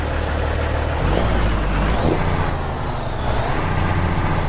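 A Kenworth T600 truck engine in American Truck Simulator drones steadily and loudly throughout, rising slightly in pitch as it revs, with no talk over it.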